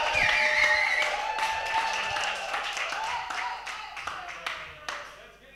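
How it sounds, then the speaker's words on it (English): Crowd at a Boiler Room DJ event applauding and cheering, dense clapping and whoops that gradually thin out, with a voice shouting over the noise. "Give them a warm applause."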